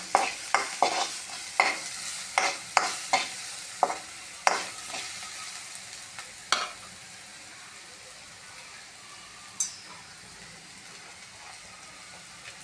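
Onions sautéing in oil with a little salt, stirred with repeated sharp scrapes and clanks over a steady sizzle for the first half, then settling into a quieter continuous frying hiss with one more scrape near the end.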